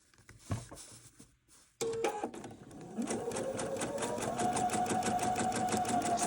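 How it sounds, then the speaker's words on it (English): A sewing machine stitches quilt fabric, starting with a few quiet handling sounds and clicks, then running in a fast, steady rhythmic whir that stays loud and continuous to the end. "I'm going to sew it on this side."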